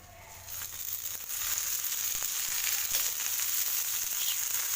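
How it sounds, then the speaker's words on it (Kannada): Okra (bendekayi) frying in a little oil, a steady close sizzle that swells after the first second and stays even and crackling throughout, with no voices. "ಸ್ವಲ್ಪ ಎಣ್ಣೆ ಹಾಕ್ಕೊಂಡು ಫ್ರೈ ಮಾಡ್ಕೊಳ್ತೀನಿ"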